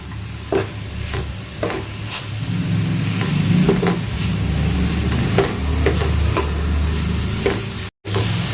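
Chopped radish and radish leaves sizzle in a pan while a spoon stirs them, with repeated scraping strokes roughly every half second over a steady close frying hiss.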